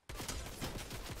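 Gunfire in Fortnite, heard as a brief, loud, rapid string of shots in close succession that starts abruptly and lasts about a second, with no talk.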